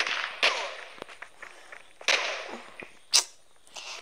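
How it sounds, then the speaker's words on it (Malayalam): Bomb blasts in the online team-deathmatch shooter Kuboom, heard as a few sharp, bright cracks and bursts spaced irregularly with small impact noises between them, moderately loud and without talk. "ബോംബ് കൊള്ളാം, ഒറ്റ ബോംബിൽ മൂന്ന് പേര്."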